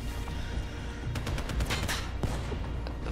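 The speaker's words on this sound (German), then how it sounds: "Von wo wird hier geschossen?" Video game gunfire in Call of Duty: Black Ops 3, with a dense run of sharp shots from about one second in, loud and fast over a steady backdrop of game noise and no talk.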